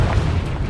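A Confringo blasting spell exploding in Hogwarts Legacy, a single short, loud, booming burst heard close up.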